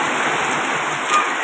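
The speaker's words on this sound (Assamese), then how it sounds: "ডাঙৰ বৰষুণ আহি গৈছে" Heavy rain pours in a steady, dense wash of noise, constant and unbroken throughout.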